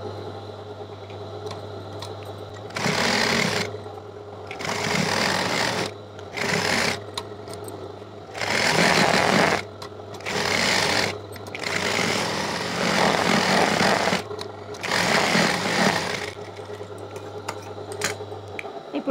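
A sewing machine top stitches a Punjabi dress in several separate bursts of fast, even running, each a few seconds long with short quiet pauses between, close and clear with no talk.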